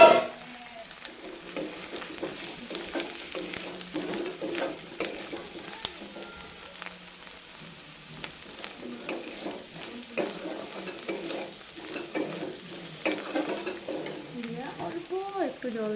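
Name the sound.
frying lentil fritters with potatoes, stirring in pan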